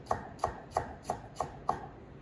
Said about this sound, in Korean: 안 밀리게끔 주의해서 썰어주기